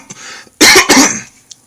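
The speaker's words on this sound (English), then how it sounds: "smoker's cough" A person gives a harsh smoker's cough: one loud, rough burst followed by a second hacking cough, then a faint trailing throat sound, all near and with no talk.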